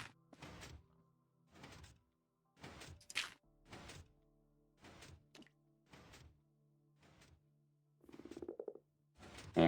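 Faint, evenly spaced croaks from a frog in Minecraft repeat about eight times in a quiet setting, followed by a brief louder rattling burst near the end.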